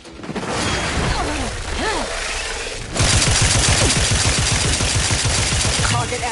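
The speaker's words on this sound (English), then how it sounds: "Ratcheting up my aggression. Wrist weapon primed!" A wrist weapon fires in The Outer Worlds 2. After quieter sounds and brief voice-like sweeps, a loud, steady rapid-fire burst starts about halfway through and runs nearly to the end.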